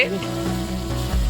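Chicken frying in a pan with a steady sizzle and low rumble, stirred now and then, heard close up.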